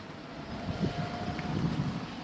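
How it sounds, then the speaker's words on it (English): Gusty wind buffets a microphone during an afternoon walk outdoors in downtown Raleigh, a steady low rumble that swells and dips for a couple of seconds with no talking. "Walking on a windy afternoon."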